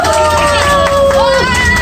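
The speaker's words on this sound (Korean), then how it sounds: "박수 부탁드려요." Passengers aboard the Everland Lost Valley safari ride vehicle clap and cheer together, a dense, steady crowd noise with a voice running over it.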